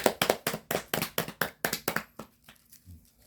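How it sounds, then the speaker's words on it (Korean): A small group at a family home worship service claps in a quick, even rhythm of about a dozen sharp claps, close and clear, then fades to a few scattered taps. "박수"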